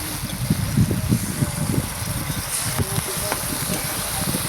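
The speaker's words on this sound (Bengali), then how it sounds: "এইবার আমি কিন্তু একটু নেড়ে চেড়ে লাগিয়ে দেবো" A pan of paneer masala sizzles and fries steadily while a spoon stirs through it, with repeated scraping and clinking close by and a constant hiss underneath.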